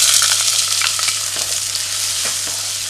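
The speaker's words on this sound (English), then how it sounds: "So we'll begin with our vegetables and we're going to saute these until they are soft." Vegetables sauté in a pan, giving a steady, close sizzling hiss with a few soft stirring scrapes throughout.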